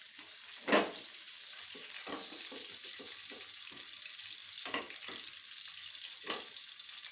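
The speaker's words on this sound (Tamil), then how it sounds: "இப்போ மீதியாக்க வேண்டி 2 பீஸ் மீன் மட்டும் தான் வறுத்துருக்கேன்." Pieces of fish frying in oil in a pan give a steady close sizzle throughout, broken by a few short, louder crackling bursts.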